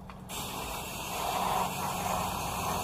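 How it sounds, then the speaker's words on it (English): Bleach being sprayed onto wasp nests on the siding of a house, a steady hissing spray that starts after a short mechanical click and keeps going at a fairly close, even level. "Spray them with bleach."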